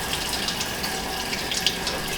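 Tap water runs steadily into a sink while rice is rinsed, a continuous close hiss with small splashy flickers throughout and no talking.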